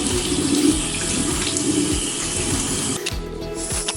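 Tap water runs steadily into a sink while a homemade natural face scrub is rinsed off, a continuous close splashing rush with slight shifts in the flow near the end and no voices.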